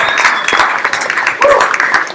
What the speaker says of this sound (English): A round of applause for Angela's dropping the paywall